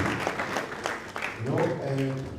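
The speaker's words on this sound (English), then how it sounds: "I think we need to give a round of applause to NRA." An audience at a Sierra Leone budget hearing in Freetown claps in a ragged round of applause, moderately close, while a voice keeps speaking over it.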